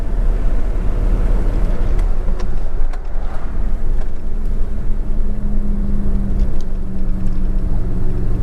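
A 1951 Ford Crestliner's flathead engine idles with a steady, smooth low rumble, close and continuous, holding an even tone with no talking over it.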